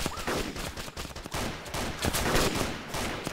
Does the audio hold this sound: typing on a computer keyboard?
no